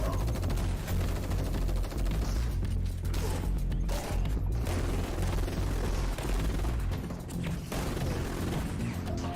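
Sustained gunfire in a VR shooting video game, a dense loud clatter of rapid shots and booms running without pause throughout.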